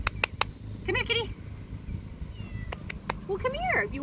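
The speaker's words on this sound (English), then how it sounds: "Come here, kitty." Cat meowing in a garden, two short mews close by, one early and one near the end, over faint outdoor background noise, with someone speaking softly in between.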